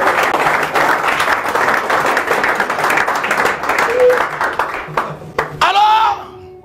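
A church congregation applauds at an Easter service with dense, steady clapping that fades near the end, where a voice briefly rises above it.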